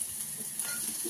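Greens and seeds hiss and crackle steadily as they hit hot tempering oil in a village kitchen, a brief, close, continuous sizzle.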